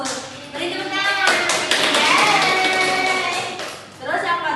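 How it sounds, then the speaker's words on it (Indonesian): Young schoolchildren in a first-grade primary classroom clap their hands in a quick burst of claps mixed with excited children's voices, close and lively, fading briefly before voices pick up again. "Beri tepuk tangan."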